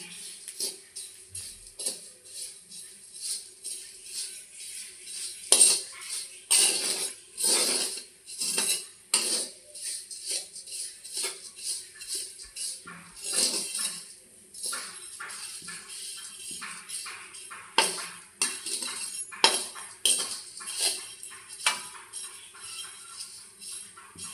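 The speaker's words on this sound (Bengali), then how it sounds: "আমি এখানে লবণে ভাজছি" Flattened rice (chira) dry-roasted in salt in a pan makes repeated gritty scraping and rattling strokes, close and rhythmic, with short pauses between bursts and no voices.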